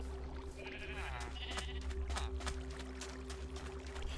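Repeated goat bleats from Minecraft, several wavering calls near the start and middle over a steady game background hum.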